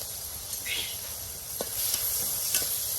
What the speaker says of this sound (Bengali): এখন মরিচগুলি দিয়ে দেওয়া হলো তেলের ভিতর